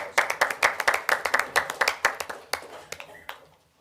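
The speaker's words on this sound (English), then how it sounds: "That deserves a round of applause." A round of applause at a city council meeting, with quick, fairly close hand claps from a small group. They start together, then thin out to a few scattered claps before fading.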